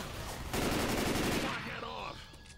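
Left 4 Dead 2 gunfire crackles in a fast automatic burst lasting about a second, loud and near, then fades while voices talk around it.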